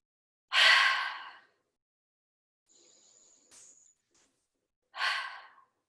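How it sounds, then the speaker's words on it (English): Deep breaths during an ab workout: two loud, close, breathy exhalations like sighs, separated by a few seconds of near silence with a faint high tone. "2 deep breaths."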